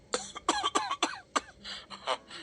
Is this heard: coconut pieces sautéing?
no